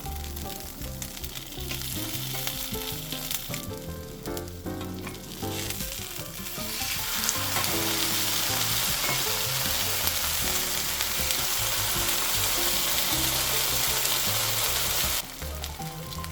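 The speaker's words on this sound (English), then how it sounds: "pan fry 2 slices of day-old meatloaf over medium heat until you get some nice color on" Two slices of day-old meatloaf pan-frying over medium heat, a steady close sizzle that swells louder and hissier midway and holds, briefly dipping near the end, with no talking.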